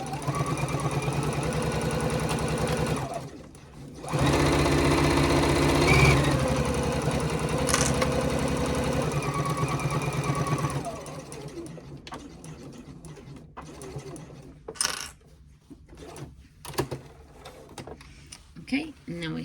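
A sewing machine runs in a steady, close whir while stitching a seam on a crossbody bag, stops, and is followed by quieter handling clatter and a person talking.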